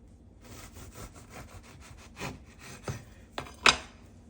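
A knife saws through a loaf of English muffin bread in quick, rhythmic back-and-forth strokes, close and crisp, ending in a few sharper scraping cuts.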